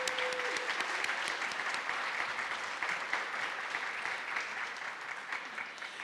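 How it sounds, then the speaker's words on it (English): An audience at a university convocation applauds, a dense, even wash of clapping that holds steady throughout at moderate distance. "Let's give everybody a round of applause for all those accomplishments."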